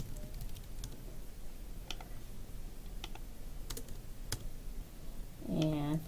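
Scattered, quiet keystrokes on a computer keyboard as a name is typed, sparse clicks in a near-silent room, with a brief voice near the end.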